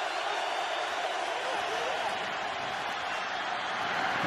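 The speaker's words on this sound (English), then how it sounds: "Crowd inspiring the defense on third down and six." A football stadium crowd roars steadily for the Steelers defense on third down against the Titans, a dense, distant wash of cheering that holds even and sustained throughout.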